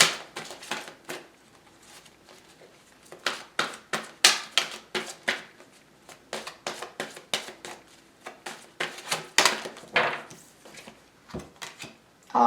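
Oracle cards being handled and shuffled give crisp, rapid rustles and sharp taps in irregular bursts, close and fairly loud, with quiet gaps between them and no talking.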